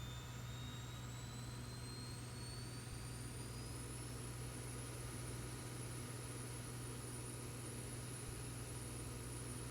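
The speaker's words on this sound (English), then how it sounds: "here's the APU is a kind of engine in the back. Hear it firing up." Auxiliary power unit of an airliner in the X-Plane 12 flight simulator spooling up, a steady low engine drone with a whine that rises in pitch over the first few seconds and then holds, continuous throughout.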